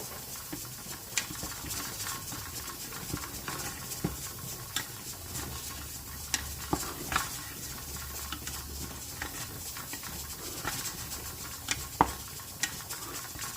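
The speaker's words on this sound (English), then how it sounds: "adding in all the onions. I'm going to give them a toss in there" Chopped onions are tossed into meat frying in a large pot of chili, with soft stirring scrapes and light patter over a faint steady sizzle, all fairly quiet.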